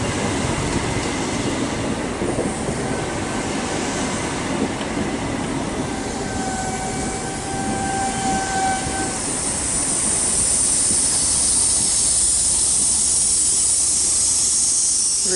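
A Great Western Railway high-speed train with power cars 43180 and 43093 at Bath Spa, a steady loud rumble and hiss of the passing train with a brief horn-like tone midway and rising engine noise toward the end.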